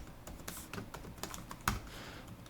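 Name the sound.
typing on a computer keyboard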